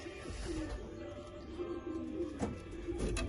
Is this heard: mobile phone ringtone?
no